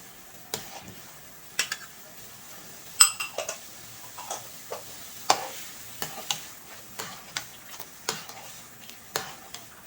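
Carrots go into a pan of cooking tocino, bringing scattered clinks and scrapes of a utensil stirring against the pan over a faint sizzle, with irregular sharp knocks spread throughout.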